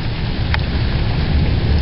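Heavy Kansas thunderstorm rain pours steadily and loudly, a dense continuous hiss of downpour with low rumbling underneath, close and alone without voices.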